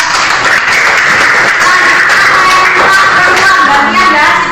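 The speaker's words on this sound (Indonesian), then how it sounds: "Tepuk tangan Indra." Loud, sustained clapping from a classroom audience for a student named Indra, a dense even wash throughout, with a voice faintly audible beneath.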